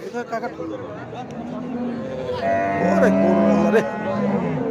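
A cow at a busy cattle market in Charmonai, Barishal, gives a loud, drawn-out moo in the middle of the clip, close by, with crowd chatter and voices around it.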